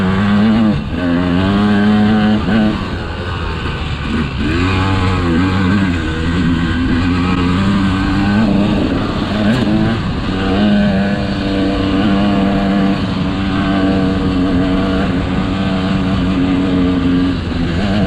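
A KTM 200XC two-stroke dirt bike engine drones loud and close throughout a ride on rocky ground, its pitch rising and falling as the throttle opens and closes, with no talk.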